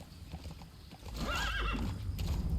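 A horse in Metal Gear Solid 5: The Phantom Pain gives a clear, wavering whinny over soft hoofbeats and low rumble, moderately close and fairly quiet.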